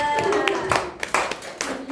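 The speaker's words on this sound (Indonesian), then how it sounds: "boleh beli tepuk tangan dulu buat kelompok 2" Classroom applause for a student group after an Earth and Moon science presentation, a short scattering of claps from a small class, close and uneven, with some speech mixed in.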